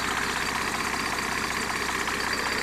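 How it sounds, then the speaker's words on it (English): A Mercedes W210 E300 saloon's six-cylinder straight turbo diesel of about 180 bhp idles steadily, a dense, even mechanical drone with no talk over it. "Nice big 180 odd brake horsepower turbo diesel"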